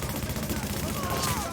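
Rapid gunfire in the shooter video game The Division, aimed at a sniper, comes as a dense run of fast shots under a continuous wash of game noise, fairly loud and unbroken for the short stretch.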